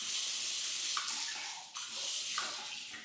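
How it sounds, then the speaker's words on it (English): A spray bottle on its flood setting lets out two short, hissing wet bursts about a second apart, close and fairly quiet, with no talk. "Okay, we'll start with the flood, and then we'll go to the mist setting."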